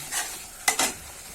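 Spice paste with chilli powder and a splash of water fries in a pan: a couple of quick sizzling hisses and stirring scrapes burst up briefly over a quiet background.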